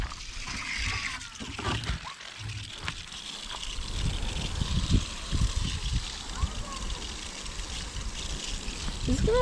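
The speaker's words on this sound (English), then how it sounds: "add water to it." Water pours and trickles into a seed-starting mix blended with worm castings, a close, continuous splashing stream with some rustling, and no talk over it.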